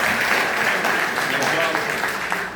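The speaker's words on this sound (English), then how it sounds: "please give them a round of applause" Crowd applause rises at a Nigerian political gathering, a continuous clapping wash with a voice faintly audible beneath it.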